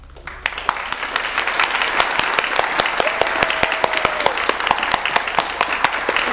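Loud, sustained applause from an audience at a radiography program pinning ceremony for the graduating class, dense rapid clapping that starts sharply and keeps going evenly for several seconds.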